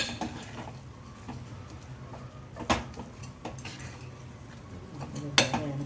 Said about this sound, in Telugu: పప్పు గుత్తు ఇనిపేసుకుంటే బాగా స్మాష్ అయిపోతుంది